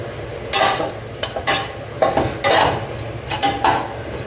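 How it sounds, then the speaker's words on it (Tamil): Puliyodharai powder ingredients dry-roast in a pan while being stirred, with repeated scraping and clinking strokes of a utensil against metal at an irregular rhythm over a faint background hiss, close by and without speech. "நல்லா அந்த ஈரப்பசை போக வறுபடட்டும்."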